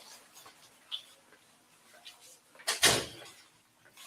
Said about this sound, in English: Can you open the door for me?